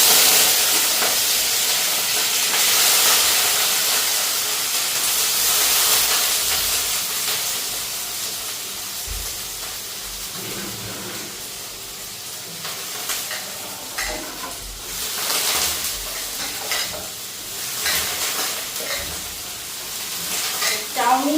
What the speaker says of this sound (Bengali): এটা এখন হালকা একটু ফ্রাই করে নিই